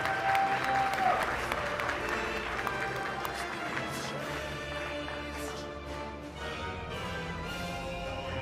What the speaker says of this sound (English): Do a huge round of applause for these guys.